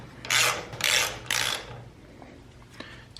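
A thread tap chasing damaged bolt threads on a Legend race car, giving several close ratcheting, grinding strokes in a steady rhythm that then fade to quieter clicks.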